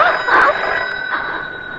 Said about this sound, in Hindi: बज गई, टेलीफोन की घंटी बज गई।